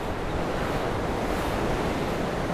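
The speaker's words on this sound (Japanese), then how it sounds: "風が斜め前から来てるんですよ" Wind hits a microphone while cycling, making a constant, loud rushing roar that buffets without a break across the whole stretch.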